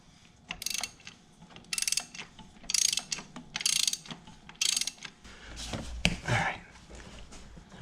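A socket ratchet turns counterclockwise to break loose the oil filter housing on an Audi during an oil change, giving close, sharp bursts of rapid clicking separated by short pauses.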